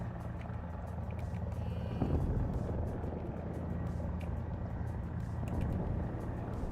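A helicopter flown in War Thunder's ground and air simulator mode gives a steady, dense rotor and engine drone that runs the whole time, with one brief heavier thump partway through and no voices.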